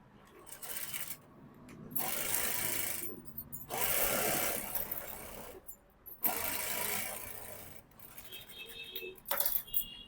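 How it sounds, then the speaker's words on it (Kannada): A sewing machine double-stitches the crotch seam of straight-cut pants, running in several loud bursts separated by brief stops, with small clicks and rattles near the end. "ಡಬಲ್ ಸ್ಟಿಚ್ ಹಾಕೊಳ್ಳೋಣ."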